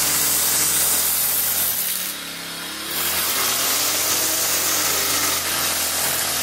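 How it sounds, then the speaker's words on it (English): An old weed whacker trims grass around a clothesline outdoors, its engine running loud and continuous up close with a brief dip in pitch midway before it revs back up. "So the old weed whacker around the clothesline."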